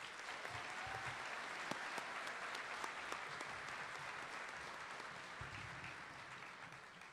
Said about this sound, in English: Let's give these recipients one more round of applause.